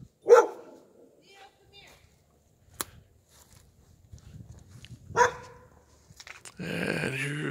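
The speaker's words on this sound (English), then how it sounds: "There's the dog coming to help." A dog barks in a few sharp separate bursts around a parked Thomas Vista bus, with quiet pauses between them and a louder run of barking at the end.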